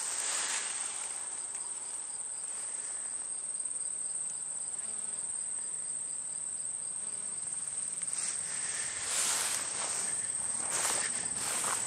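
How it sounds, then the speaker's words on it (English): Insects hum and trill steadily at the edge of a Minnesota GMO cornfield in late summer, with honeybees around. The drone stays constant throughout, and a louder brief burst of buzzing comes near the end. "And plenty of honeybees."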